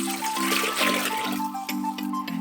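Water is poured to make a marinade for quick pickled cabbage in a home kitchen, a steady trickling and splashing stream that runs close and continuous for a couple of seconds with faint tonal hum underneath.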